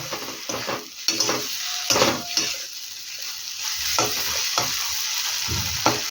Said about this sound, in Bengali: পোস্তটাকে টমেটোর সাথে ভালো করে মিশিয়ে নেব